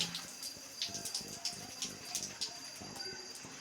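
Water runs steadily into a washing machine drum while the machine is switched off, with sloshing, splashing bursts and faint clicking, fairly close, with no voices.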